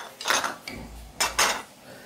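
Plates clinking and clattering as they are handled in a household setting during a weekly shopping unpack, two short bursts of dish sounds close by with no talking.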